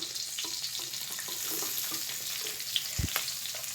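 Chopped onion fries with a soft, steady sizzle in a pan, faint and close, with a brief knock partway through.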